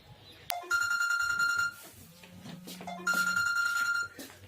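A telephone rings in repeated electronic bursts, two loud trilling rings with gaps between, unanswered, with faint background noise and a brief low tone.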